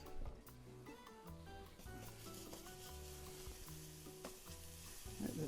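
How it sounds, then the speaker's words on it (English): Steady sizzling and crackling of grated garlic frying in hot oil, continuous and close, with some clinking and stirring over it. "We just need that to sizzle."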